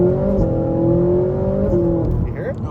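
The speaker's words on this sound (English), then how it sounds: "that's the pump behind your head. You can hear it actually pressurizing when you shift gears." A Ferrari 458 idles with a steady, close engine drone. Its pump whirs and pressurizes with short shifts in pitch at a few gear changes.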